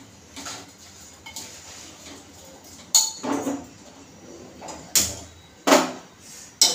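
A spoon stirs rice with soybeans in a pot, giving several separate scraping clinks against the metal, each short and fairly close, with quiet gaps between them.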